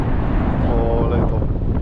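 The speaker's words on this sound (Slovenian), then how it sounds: "Ful piha." Strong wind blows at Yasur volcano, buffeting the microphone with a loud, steady low roar throughout, and a voice speaks briefly over it.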